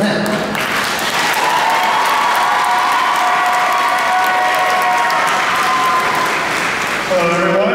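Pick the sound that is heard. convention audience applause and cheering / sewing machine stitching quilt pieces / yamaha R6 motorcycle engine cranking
convention audience applause and cheering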